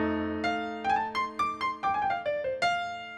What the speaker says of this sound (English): If I'm playing a blues and I just play shells